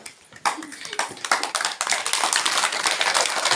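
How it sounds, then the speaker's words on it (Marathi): Schoolchildren in a Marathi village school clap together after a classmate writes on a new blackboard, a quick scattered patter of small hands that starts abruptly and builds into a brisk, uneven round of clapping. "टाळ्या वाजवा टाळ्या वाजवा टाळ्या वाजवा"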